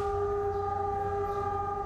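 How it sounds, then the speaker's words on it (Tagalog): A Philippine National Railways train horn sounds as a steady, loud, sustained tone, alone with a low rumble beneath. "Sino makakalimot sa lakas ng tunog ng paparating na tren ng Philippine National Railways?"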